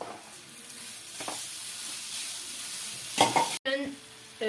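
Grated coconut is stirred and roasted in melted jaggery in a pan, making a close, steady sizzle with scraping strokes of the spoon and a few louder clatters near the end.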